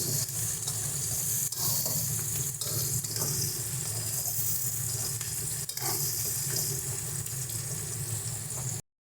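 Chopped onion frying in leftover fish-frying oil in a pan, a quiet steady hiss and crackle held for several seconds without speech, cutting off abruptly at the end.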